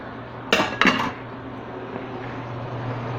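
Carrots being stirred into potato soup in a metal pot: two quick, sharp clanks of a spoon against the pot early on, then only a low, steady background hum.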